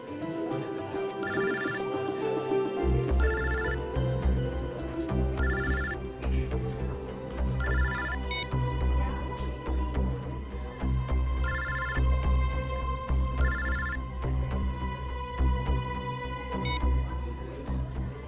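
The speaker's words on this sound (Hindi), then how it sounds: "कौन बार बार फोन कर रहा है?" A telephone rings in repeated short bursts at a steady rhythm over background music, with no one speaking.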